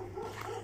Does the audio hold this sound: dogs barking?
yes